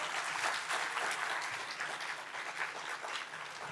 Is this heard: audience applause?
yes